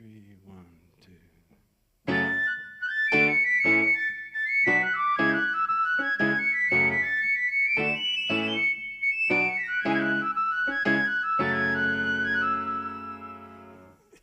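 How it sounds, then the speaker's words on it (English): A tin whistle plays a bright, lilting Irish melody of repeated phrased notes over a rhythmic accompaniment at a live band concert, clear and up close. "you can hear the tin whistle, which is an Irish sound"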